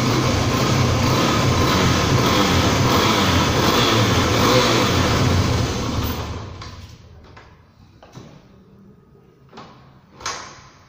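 A 1996 Suzuki Djebel 250XC motorcycle engine runs with a loud, steady, close roar for about six seconds, then falls away, leaving a few faint knocks and clunks.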